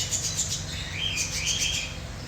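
Pet parrots and lovebirds chirping close by: repeated high, thin tweets and short squeaky calls over a soft low hum, faint and steady.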